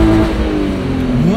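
A BMW E36 engine revs hard against the rev limiter at a traffic light, a loud, close, steady buzzing drone that wavers slightly in pitch with no talk over it.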